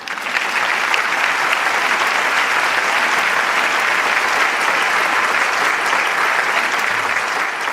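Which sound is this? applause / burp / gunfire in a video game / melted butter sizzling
applause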